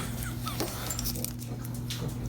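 Dog whimpering outside a closed workshop door, a few soft high whines and yips over a steady low electrical hum, fairly near.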